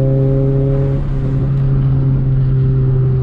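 A Chevrolet Celta fitted with bucket seats revs loudly and up close, its engine drone holding a steady rumbling pitch that shifts slightly partway through, with no talk over it.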